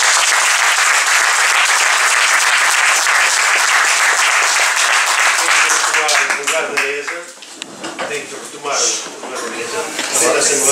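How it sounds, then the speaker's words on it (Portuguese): Loud, dense applause for the presiding table at a municipal swearing-in ceremony for a parish council assembly; the clapping starts strong, thins out and fades midway, and voices begin talking as it dies down. "Agora sim, uma salva de palmas para a mesa."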